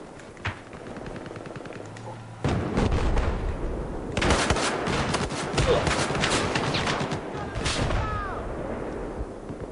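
Gunfire in Battlefield 4, a chaotic stretch of rapid shots and cracks that grows louder and denser after a quieter start, with the odd distant boom under the racket.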